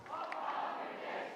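Crowd of young people chanting a cheer for Pope Francis at an interreligious gathering in Singapore, a brief loud burst of massed voices ringing out together.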